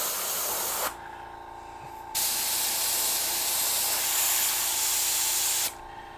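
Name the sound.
spray gun spraying paint through air cap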